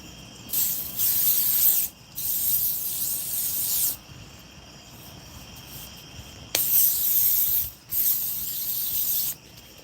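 Aerosol bug spray hisses from a can in four separate bursts, each lasting one to two seconds with short pauses between them, close and fairly loud with no talking.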